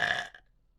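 A single short burp, loud and close, fading out quickly into near silence with no talking.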